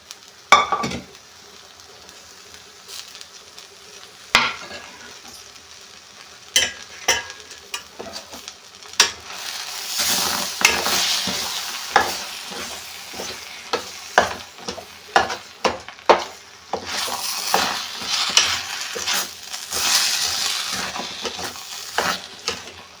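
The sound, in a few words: stirring and mashing dal with green chillies for sambar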